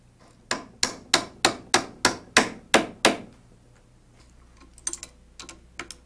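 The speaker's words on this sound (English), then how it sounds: "plastic hammer to drive the bolts through the holes" A plastic hammer drives bolts through holes in an aluminum hub during helicopter maintenance, striking about nine evenly spaced, crisp taps in a row, then a few lighter, scattered taps after a pause.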